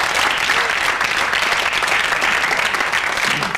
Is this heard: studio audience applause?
yes